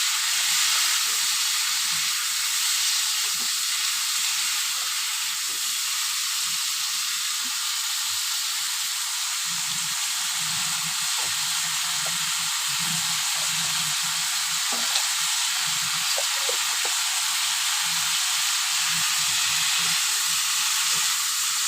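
Spices with salt and a spoonful of turmeric frying lightly in a pan, a steady hissing sizzle throughout, with soft intermittent stirring knocks and scrapes close by.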